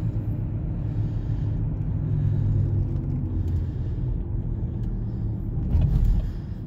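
A steady low engine rumble from inside a moving Buick Enclave with about 150,000 miles, continuous and even, with road noise underneath and no talking.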